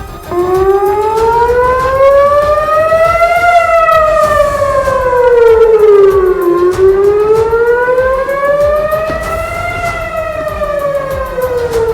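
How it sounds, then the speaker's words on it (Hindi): Air raid warning sirens wail over an Israeli city, rising and falling in long slow sweeps with strong harmonics, loud and sustained throughout with no talk. "तभी शहर में लोगों को आगाह करने के लिए हमले के सायरन बजने शुरू हो गए"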